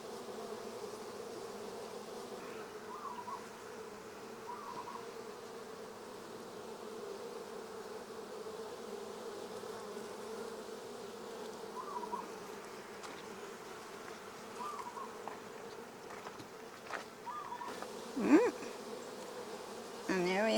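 Honeybees buzzing steadily during an inspection of a queenless hive with no eggs, a continuous low drone that holds throughout, with a few brief handling knocks toward the end.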